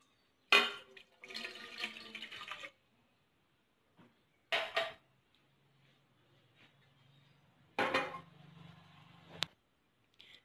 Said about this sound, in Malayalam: ഇതിലേക്ക് കുറച്ച് വെള്ളയേ ഒഴിക്കാവുള്ളൂ.